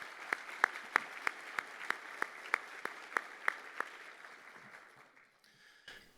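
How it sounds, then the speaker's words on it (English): Sparse audience applause for elected officials, with a dozen distinct claps in an even rhythm that thin out and fade after about four seconds in a quiet room. "A round of applause for our elected officials."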